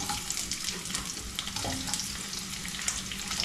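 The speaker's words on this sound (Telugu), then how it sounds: "సో వీటన్నింటినీ మంచిగా ఫ్రై చేసుకోవాలి." Onions and lentils frying in a pan give a continuous close sizzle with faint stirring, steady and even in level, with no talking.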